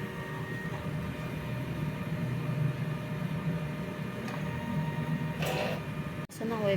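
A DTF printer runs a print head cleaning cycle, a steady mechanical whir and hum with faint tonal whines, a brief rising servo sweep near the end and a sharp click as it stops.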